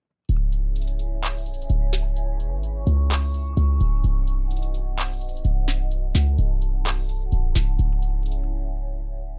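A looped beat of deep, booming 808 bass hits with sliding pitch, punctuated by crisp hi-hat and snare taps, loud and repeating throughout.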